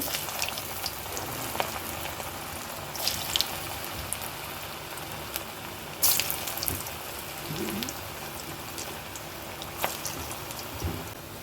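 Bottle gourd kola balls fry in hot oil kept on a low flame, making a continuous, even sizzle with occasional small pops and crackles. The sound is close and steady throughout, with no voices.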